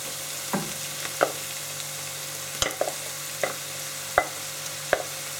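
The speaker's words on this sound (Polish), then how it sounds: "Wszystko przemieszamy i będziemy podsmażać kilka minut." Minced meat and softened onion frying in a pan, a steady low sizzle with several sharp spoon clacks and scrapes as the mixture is stirred.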